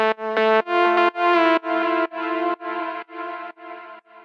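A soft synth lead for a melodic techno track plays a slow, evenly spaced series of about nine sustained notes, each with a bright, buzzy harmonic tone and echoing tails, gradually growing fainter, alone without talk.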